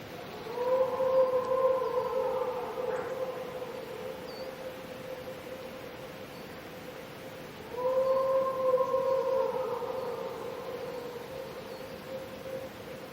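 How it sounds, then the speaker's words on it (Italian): A wolf pack howls in the Alps, two long sustained howls about seven seconds apart, each holding a steady pitch and then fading, heard at moderate distance against a quiet background. "L'ululato di un branco di lupi nelle vicinanze"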